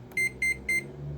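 Oven timer beeping during chicken cooking: three evenly spaced electronic beeps, each about a tenth of a second, clear and fairly loud over a low steady kitchen hum.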